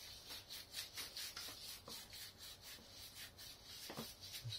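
Emery cloth rubbed over a rear brake part of a TNT 125 motorcycle, a quiet, close rhythmic scraping of repeated back-and-forth strokes with no talking.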